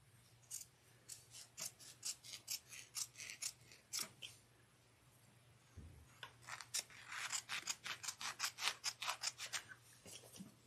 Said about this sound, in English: So we're going to trim the lining.